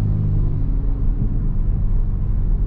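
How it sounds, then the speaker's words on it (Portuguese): An Audi A5's engine revs at close range, a loud, steady low rumble that holds throughout with no pauses or talk over it. "Olha o barulho dela, ó. Tá acelerando, rapaziada."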